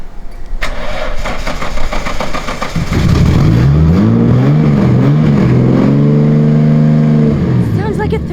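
A Nissan Skyline R31 engine cranks over, catches and settles into a throaty idle, then revs rise and fall in smooth swells, loud and close with voices talking over it.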